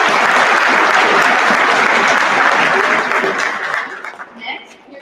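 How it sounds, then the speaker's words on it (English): Loud audience applause at a school winter band concert, a thick wash of clapping that thins out and fades over the last second, with faint voices emerging as it dies. "Let's give them another round of applause."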